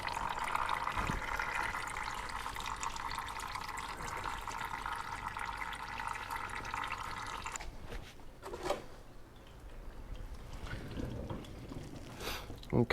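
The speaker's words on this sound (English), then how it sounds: "I'm just going to unscrew this and allow the fluid to go directly into this container" Automatic transmission fluid from a mid-engine BMW i8 runs into a catch container, a steady close trickling pour that later breaks into drips and splashes while someone talks.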